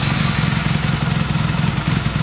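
A motorcycle engine idles steadily close by, a continuous low, even rumble with a fine rapid pulse and no revving, heard alone for a couple of seconds.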